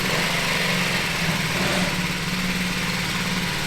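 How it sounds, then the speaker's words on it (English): A Honda Z50 minibike fitted with a big bore kit idles close by, its small engine putting out a steady, raspy putter that stays even and loud throughout, with no voices. "Oh, listen to it idle."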